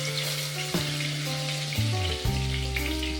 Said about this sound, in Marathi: त्यानंतर वाटून घेतलेलं लसूण आणि कोथिंबीर टाका त्याच्यामध्ये आणि त्याला चांगलं परतून घ्या